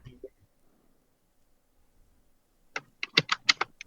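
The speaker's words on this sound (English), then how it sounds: "I hear keyboard clacking. Clickety clackety." Computer keyboard keys clack in quick bursts during a podcast call, close and fairly loud, after a short spoken word and a near-silent pause.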